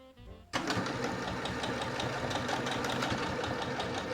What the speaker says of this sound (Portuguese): vamos dar 2 pontos para a frente e 2 pontos para trás para fixar o ponto